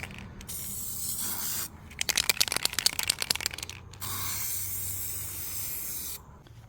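Bursts of hissing aerosol spray paint coat a 1987 Chevy squarebody fuel tank in a garage: two long steady sprays bracketing a sputtering, rattling stretch, close and moderately loud.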